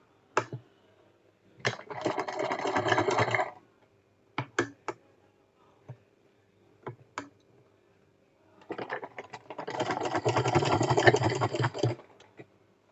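A sewing machine stitches cigar pants in short bursts: two brief runs early, scattered single clicks and taps between, then a longer steady run near the end, all close and dry.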